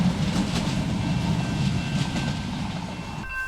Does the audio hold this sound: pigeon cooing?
no